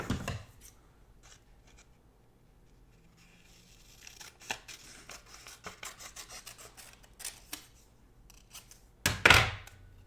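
Scissors cutting a thin strip of paper for a Happy Planner spread, a brisk series of close snips and rubbing paper handling, ending in a louder crunchy cut.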